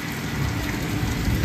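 Heavy rain pours in a dense, steady hiss and patter on street surfaces, loud and unbroken with no voices over it.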